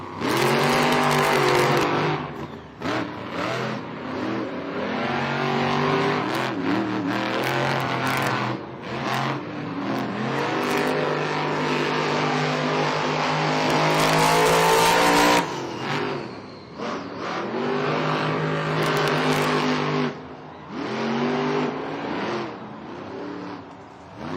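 Monster Jam trucks race on the JCB Racing course in a San Diego stadium, their engines roaring loud and close with rising and falling revs, shifting pitch and brief drops in throttle throughout.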